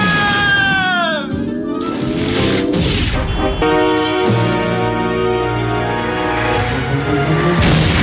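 Cartoon explosion erupting from the Paris metro, a loud crashing boom with rumbling debris, layered over dense animated music and effects throughout.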